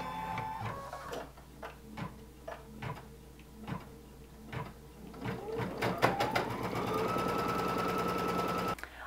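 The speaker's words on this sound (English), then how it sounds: "we'll load our hoop in the embroidery machine, lock it down. Press the presser foot down, and we're ready to stitch the first step." Computerized embroidery machine stitching the first step of a zipper pouch design in a hooped project, a steady rapid mechanical ticking and clatter that grows louder and denser toward the end, close up with no talking.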